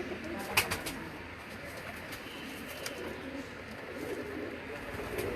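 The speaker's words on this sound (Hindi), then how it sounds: "इसमें थोड़े से तस्वीर वाले कबूतर हैं" Pigeons of the Mian Nazir strain from a Lahore pigeon-keeping contest coo softly amid steady ambient noise, with a few brief chirps and faint background voices.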